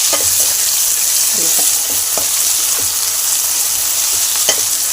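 Ginger paste fries in a hot pan, sizzling steadily while a spoon stirs it with occasional scraping clinks, close and clear with no talk.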